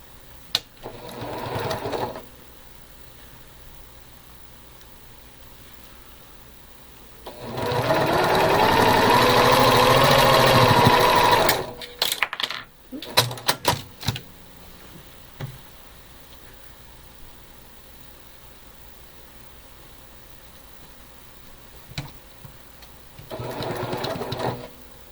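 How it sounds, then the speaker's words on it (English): A sewing machine runs a continuous seam for about four seconds while quilt rows are joined, its motor humming steadily and close, framed by shorter bursts of stitching, clicks and handling noises before and after. "So let's start by sewing the top row together."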